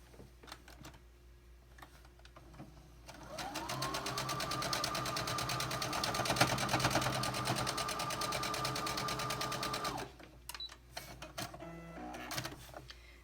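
A sewing machine stitches quilt block fabric in one steady, rapid mechanical run of about seven seconds, with quiet pauses before and after.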